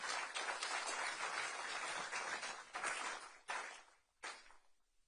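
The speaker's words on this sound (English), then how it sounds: "Can we give our community a round of applause" Applause from a crowd at an official community briefing after deadly floods, a steady burst of clapping that breaks into a few bursts and tapers off at the end, with no speech.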